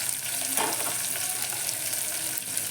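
Chopped onion frying in hot tempering oil for dal, a steady close sizzle with light crackling and a soft stirring scrape, no voices.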